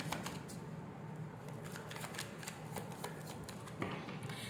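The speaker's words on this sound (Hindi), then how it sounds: "वेट में और कार्ड्स देख लूं फिर आपको बताती हूँ।" Tarot cards being shuffled and drawn, heard as soft, quiet riffling and flicking with a few sharper card snaps, close by in a calm room with no talking.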